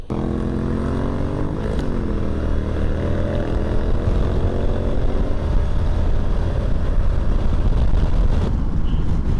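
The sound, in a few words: Moto Guzzi Stelvio motorcycle riding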